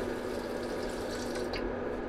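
An electric pump in a camper van pushes water into a sink bowl, giving a steady close rushing hiss of flowing water with a constant pump hum beneath it and no talking.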